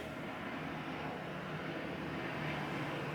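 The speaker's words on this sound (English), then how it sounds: "Sorry, there is a helicopter." A helicopter flies overhead, a steady, moderately faint engine rumble that drones on evenly throughout, with no talking.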